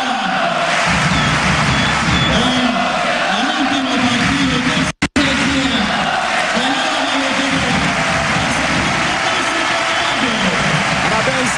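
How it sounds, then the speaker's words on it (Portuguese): A loud arena crowd at a Spain versus Brazil international futsal friendly in Spain chants the name of player Jesus Herrero in steady rising and falling waves, with a brief dropout partway through. "E a torcida agora gritando o nome dele"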